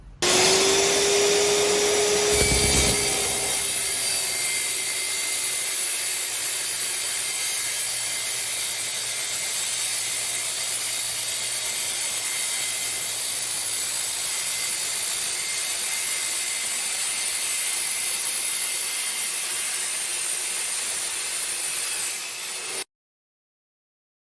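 An iQ Power Tools TS244 tile saw whines steadily and loudly for about twenty seconds cutting tile, a continuous grinding cut with a brief sharp burst near the start, then abrupt silence.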